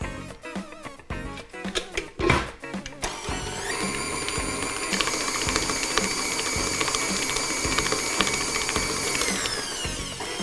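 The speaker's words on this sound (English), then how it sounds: "now I'm going to whisk my eggs and my sugar together" An electric mixer whisking six large free-range eggs with sugar for carrot cake starts after a few clunks, then runs as a steady high motor whine for several seconds, close and loud.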